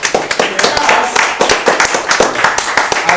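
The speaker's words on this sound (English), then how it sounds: "You can clap." A small audience at a TV night event claps steadily, crisp distinct hand claps in a quick uneven rhythm, close and fairly loud.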